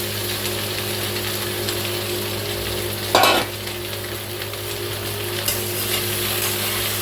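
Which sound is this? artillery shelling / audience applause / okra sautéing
okra sautéing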